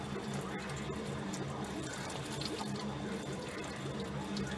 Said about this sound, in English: I'm just slowly letting out some coolant.